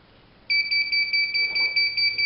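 A heat press timer alarm sounds abruptly after a quiet moment, a loud steady electronic two-tone beeping that pulses in a quick regular rhythm and continues until the end, with faint rustling beneath.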